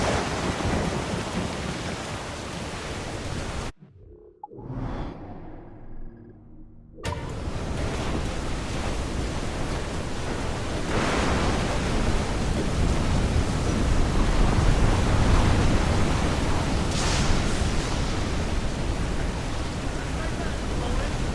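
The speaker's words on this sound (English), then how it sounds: "storm brewing there, sir" A thunderstorm at sea in Assassin's Creed 4 Black Flag roars with steady heavy rain, wind and crashing waves, thunder rumbling through, broken by a short muffled gap before the storm surges back loud and continuous.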